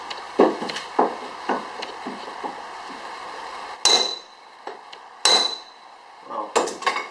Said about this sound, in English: I want to pound this piston down to get this cap